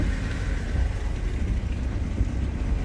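A truck engine rumbles close and loud in a steady, deep, rough drone with no pauses.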